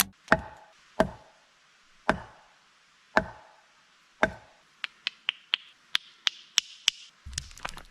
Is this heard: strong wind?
no